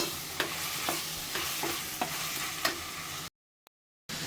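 Beans and carrots are stir-fried in a pan, with a steady sizzle broken by regular scraping strokes of a spatula before the sound cuts out abruptly near the end.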